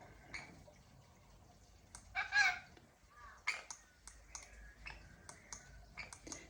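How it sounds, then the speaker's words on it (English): A crow calling outside, heard faintly and briefly at a distance amid small ticking and clicking sounds in a quiet room. "Just heard a crow going"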